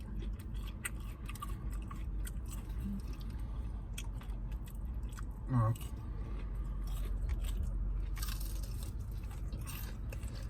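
Crunchy fried chicken gizzards chewed up close, soft repeated crunching and biting with one louder crunch midway, over a low steady background.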